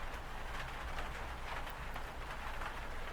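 Steady rain falls as a continuous soft hiss with faint pattering, an even, close ambient wash set in a coworkers' roleplay audio drama, with no voices.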